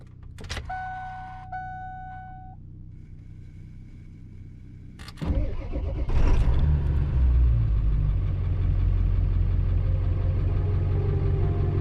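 A 7.3 Powerstroke diesel truck engine idles while warming up, a steady low rumble that builds after a few seconds, preceded by faint tonal beeps and a brief clunk, with no talking.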